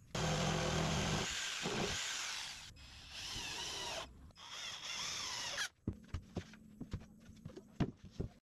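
A power drill drives gypsum screws into a plywood dog house, with long whirring runs that cut off, then a series of short sharp bursts and clicks as the screws seat.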